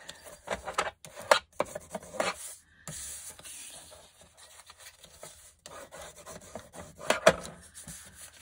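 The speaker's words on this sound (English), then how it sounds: "we need to score the bottom here" A scoring tool drawn across paper for a wallpaper journal, giving a series of short rasping rubs and scrapes, close and fairly quiet, with pauses between strokes and no talking.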